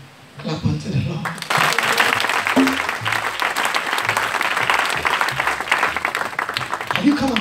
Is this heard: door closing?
no